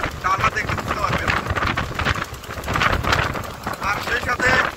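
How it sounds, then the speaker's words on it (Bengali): Strong stormy wind buffets the microphone before rain in a village mango orchard, a loud continuous roar with gusts that swell and ease, while a voice talks underneath. "মানে বৃষ্টির আগে যে ঝড় বাতাস, ঝোড়ো বাতাস"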